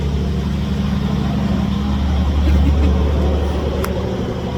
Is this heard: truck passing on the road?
yes